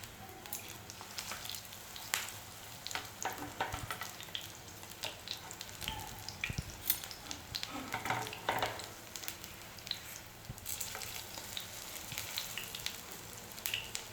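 Aubergine slices fry in a pan and are turned over, giving a steady soft sizzle with scattered crackles and a few light scraping clicks as the pieces are flipped.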